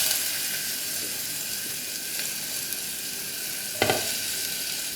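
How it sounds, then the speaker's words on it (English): Onions fry in oil in a pan for a Kerala prawn and green mango curry, giving a steady close sizzle throughout with a brief louder stir or clatter near the end. "And we'll just fry this until the onions becomes soft."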